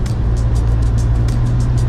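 A car passes by on the road in traffic beside a highway accident scene, a steady close engine and tire rumble holding at an even level through the short stretch.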